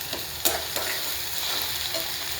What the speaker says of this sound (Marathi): आता इथे चिरलेला एक टमाटा, तो पण टाकून घेते. छान असं तेलामध्ये एकजीव करून घेतलेला आहे.